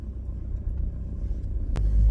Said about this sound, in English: Okay, so I'm in the car now